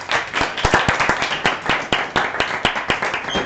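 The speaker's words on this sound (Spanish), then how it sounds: "un aplauso para Diego" Audience applauding a science talk speaker at a lecture hall event, steady fairly close hand claps with distinct individual slaps forming a lively, even rhythm throughout.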